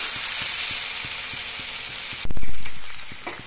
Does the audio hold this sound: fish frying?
yes